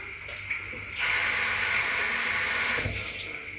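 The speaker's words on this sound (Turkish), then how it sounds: "Sütümüz kaynamıştır neredeyse" Milk coming to a boil on a stove gives off a steady hissing, steamy rush that swells after a second and holds evenly before easing off, close and continuous.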